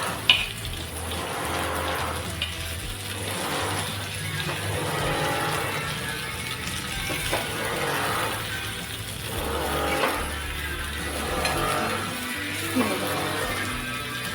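Stuffed okra (bharli bhendi) fries in a pan over a medium gas flame, giving a continuous soft sizzle with small rises and dips, while someone talks over it.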